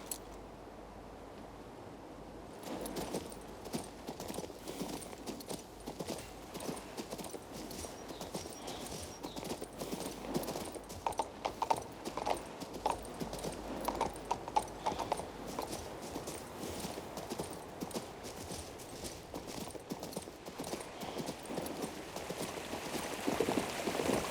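Horse hooves clip-clop in a steady, brisk rhythm in the video game Kings Bounty II, close and fairly loud, over a low constant background hum.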